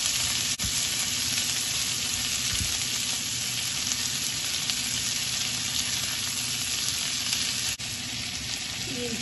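Chopped onions and green chillies fry in hot oil with a constant dense sizzle, close and even throughout, with only faint occasional stirring.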